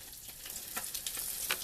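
Steady close crackle and sizzle of fish frying in hot oil in a large kadai, with small pops scattered through a continuous hiss.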